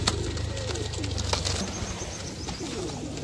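Pigeons at a busy pet market coo in low, soft rolling calls amid a dense bed of market noise, fluttering and chatter.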